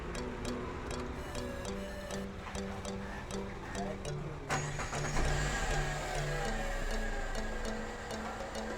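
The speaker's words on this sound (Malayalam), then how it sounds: "അപ്പോൾ സ്റ്റാർട്ട് ചെയ്യുമ്പോൾ തന്നെ എൻജിൻ്റെ അവിടെ നിന്ന് ചെറിയൊരു നോയ്സ് കേൾക്കാം" A Tata Indigo car with a worn belt tensioner bearing is started: rapid ticking at first, then the engine catches about halfway through and settles into a steady idle with a persistent rhythmic tick, while a person talks.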